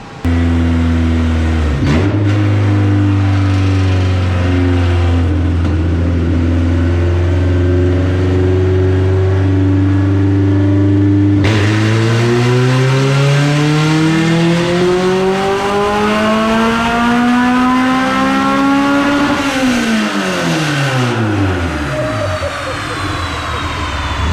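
Honda CRX with an all-motor B17 engine revving hard on a dyno with the exhaust unbolted from the header, a loud, raw roar climbing through sustained pulls, a brief drop midway, then another rising sweep before falling off.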